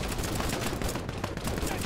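Rapid gunfire in the real-time strategy game War Alert WWII, Soviet machine-gun units firing dense, continuous bursts of shots that fill the whole moment at steady loudness.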